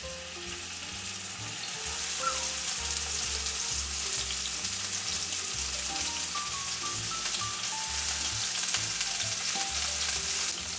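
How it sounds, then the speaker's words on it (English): A chuck roast searing in vegetable oil in a cast iron skillet, giving a steady, dense sizzle and crackle that holds throughout, close and continuous with faint background tones. "We're just going to sear all sides of our chuck roast."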